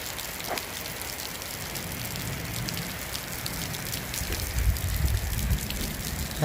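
Steady rain falls on a rural garden where grass was being cut, a dense even hiss of drops close by that swells slightly toward the end, with no talk.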